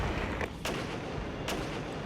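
Artillery fire in the video game Regiments, two sharp booming blasts about a second apart over a steady dense background rumble, with no voices.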